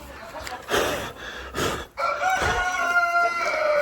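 Free-range laying hens cluck in short bursts close by, with a drawn-out rooster-like crow rising over the flock toward the end.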